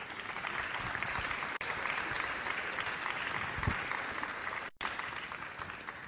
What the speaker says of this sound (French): On les applaudit encore une fois s'il vous plaît.